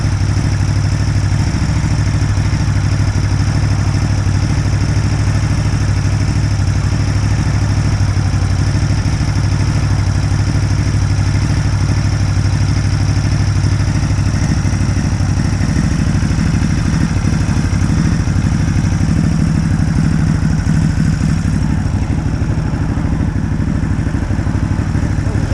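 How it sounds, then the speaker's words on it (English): A 2018 Ducati Hypermotard 939 supermotard idles steadily and close by for the whole stretch, its low engine drone running even and unbroken with a faint mechanical clatter on top and no voices. "This is a Ducati Hypermotard 939"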